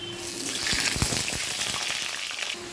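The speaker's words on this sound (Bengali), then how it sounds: "তেল গরম হয়ে গেছে এবার আলুগুলো ভেজে নেব" Potatoes frying in hot mustard oil with a steady, close sizzle and crackle, and a few sharper spits and pops near the middle.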